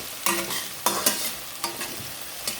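Onions frying in a pan are stirred to golden brown, giving several sharp scraping strokes against the pan over a steady soft sizzle, with no talking.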